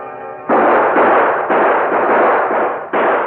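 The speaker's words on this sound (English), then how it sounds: "The Lone Ranger and Tonto saw the gunfire." Rapid gunshots crack in quick succession in an old 1945 Lone Ranger radio drama, sharp loud bursts that follow a brief tonal sound, with no speech over them.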